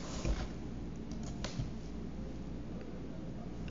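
Fingers type on a computer keyboard, a few soft, scattered key clicks near the start, then quieter taps over faint room hiss, close and sparse.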